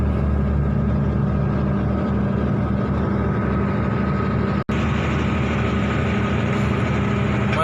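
A heavy Hino 344 truck rated for 45 tons climbs a hill in second gear, its diesel engine droning loud and steady at constant revs, with one brief dropout midway.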